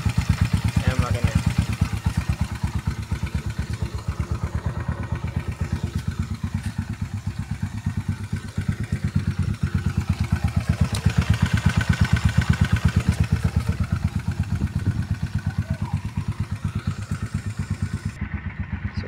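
Cold motorcycle engine running at idle, a steady, rapid thumping clatter close by that continues evenly throughout, with faint voices now and then in the background.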